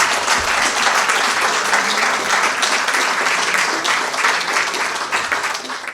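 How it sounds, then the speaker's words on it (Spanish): An audience gives a loud, dense round of applause at an event, with steady rapid clapping that lasts about six seconds and tapers slightly at the end. "Un aplauso para Nelson Gutiérrez, por favor."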